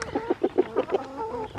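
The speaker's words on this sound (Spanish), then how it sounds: "Ya salió esa gallina de poner un huevo." A hen on a farm gives a quick series of about six loud, close clucks in a steady rhythm, followed by a drawn-out cackle with no talking.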